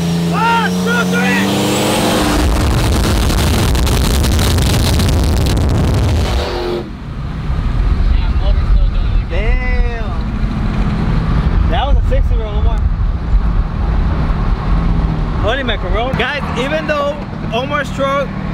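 Pickup trucks drag race, one with a turbo V6, their engines roaring loud and close for several seconds before cutting off, followed by quieter engine noise and people talking excitedly.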